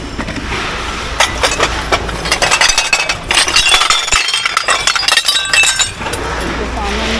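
Broken glass kitchenware clinks and rattles as pieces are picked through in Kuwait, with repeated sharp chinks and knocks under steady talking.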